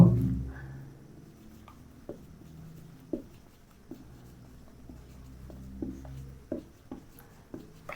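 Chalk or marker writing on a board during a chemistry lesson: faint scratchy strokes with a handful of sharp taps spaced irregularly, quiet and somewhat distant, without speech over it.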